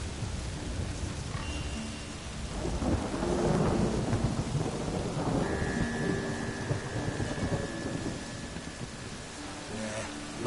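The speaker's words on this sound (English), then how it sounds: "The storm, damn it." Thunderstorm with rain in Witcher 3, with steady rainfall and a heavy rolling thunder rumble near the start, plus a faint background tone and a few scattered ambient sounds.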